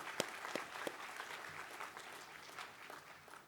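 Steady applause from a large audience at a university degree conferment ceremony, a dense patter of clapping with a few sharper claps early on, fairly distant and tapering slightly toward the end.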